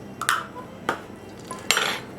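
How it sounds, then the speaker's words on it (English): Carrots, raisins and walnuts are stirred into cake batter in a bowl, heard as three distinct clinking, scraping strokes of a utensil against the bowl, close up. "I'm just going to stir these in."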